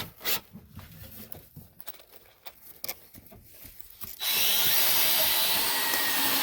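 A power drill driving screws into pallet wood: light handling clicks and taps, then a loud steady whir that runs close for the final two seconds.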